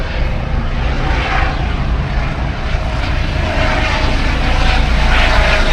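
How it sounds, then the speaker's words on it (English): A helicopter drones loudly overhead, a continuous whirring roar that holds steady throughout with no speech. "Did that helicopter just come from that boat over there, that yacht, that mini yacht?"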